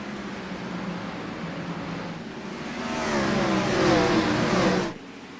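Stock cars race around Bristol speedway after the green flag in an All-American Cup Series event. A steady engine roar swells as a pack passes close and loud, then drops off sharply near the end.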